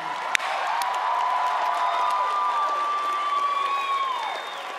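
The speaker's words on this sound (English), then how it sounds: "We need to give another round of applause to Jacinda Ardern." Crowd applause and cheering at a music awards ceremony, a steady roar of clapping with whoops, while a sustained tone sweeps across the mix.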